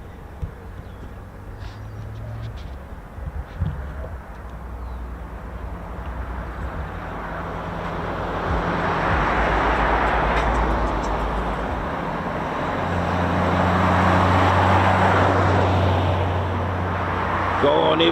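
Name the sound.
Boeing F-15QA fighter jet taking off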